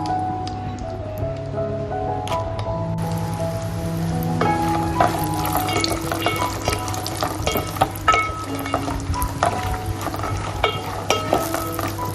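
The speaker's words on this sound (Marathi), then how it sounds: "त्यांना गोल्डन कलर येईपर्यंत भाजूया तुपामध्ये याचा फ्लेम मंदच ठेवायचा आहे मीडियम गॅसवर यांना छान प्रकारे भाजून घ्यायचे" Cashews roast in ghee in a pan over a medium flame, giving a continuous close sizzle with scattered crackles and stirring clicks, while tonal music plays in the background.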